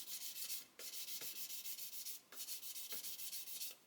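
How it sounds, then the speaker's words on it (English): Close, steady sanding strokes rasp back and forth on a plastic scale-model car part in a regular rhythm, each gritty scrape separated by brief pauses, with no talking. "So we just keep sanding that until the"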